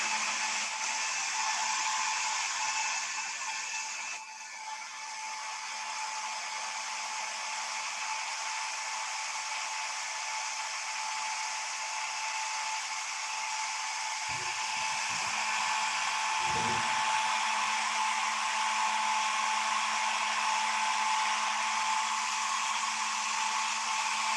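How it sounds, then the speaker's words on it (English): A hair dryer drying watercolor paint blows steadily and loudly throughout, a constant whirring hiss with a couple of brief clicks near the end. "I'm gonna hit it with a hairdryer real quick."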